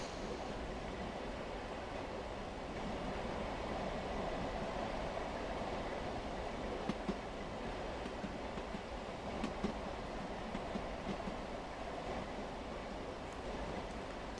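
A locomotive running in the Train Sim World game: a steady, fairly faint rumbling drone with occasional soft rail clicks, continuous throughout and with no talking.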